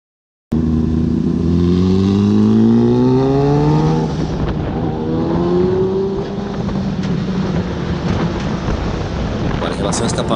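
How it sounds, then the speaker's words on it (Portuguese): Motorcycle with a sport exhaust, ridden alongside a Yamaha MT-07, revs loudly and close, its pitch climbing through the gears before settling into a rough, steady roar with wind noise. "Escapamento, pelo som dessa outra moto já deu pra ver, né?"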